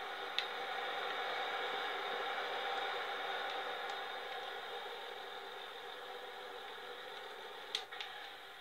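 Old tractor in the farming game Farming Simulator 19, idling with a faint, steady hum and a few small ticks and clicks.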